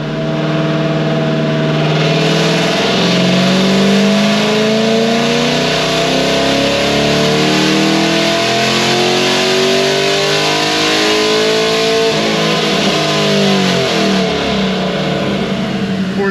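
A cam-only Chevy SS V8 revs hard through a cold dyno pull, its loud engine note climbing steadily in pitch for a long sustained run, then easing off near the end.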